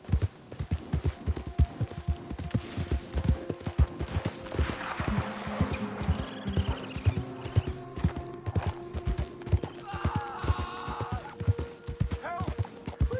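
A horse gallops in Red Dead Redemption 2, with rhythmic hoofbeats pounding steadily and close, along with creaks of tack and brief other game sounds, with no talking.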